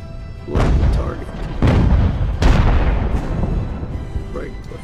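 Heavy cannon booms from counter-battery fire in the naval strategy game Ultimate Admiral: Age of Sail, three or four loud blasts each rolling off into a long rumble, with someone talking over the battle.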